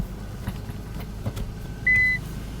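A single short electronic warning beep sounds inside an R34 Skyline car as it drives, a clear tone over the low hum of the engine and road.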